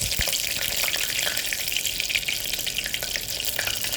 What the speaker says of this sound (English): this stuff fries. This little hot fryer, deep fryer, cooks very fast